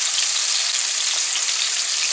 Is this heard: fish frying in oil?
yes